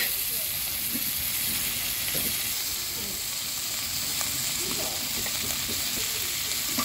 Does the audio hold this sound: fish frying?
yes